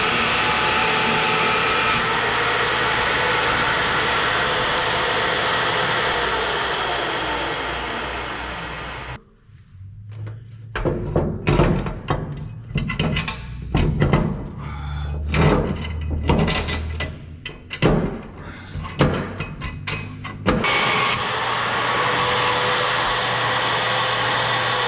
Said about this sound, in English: So now we just need the mag drill